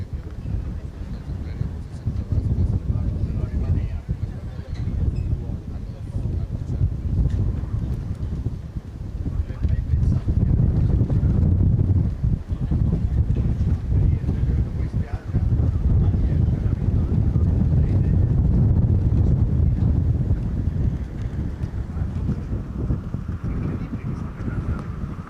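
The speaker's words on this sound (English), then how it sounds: "Hear that wind, look at the flags, the movement." Steady wind buffets the microphone at a footgolf course during a world championship in Acapulco, a continuous low rumble that swells and eases throughout, with no talk.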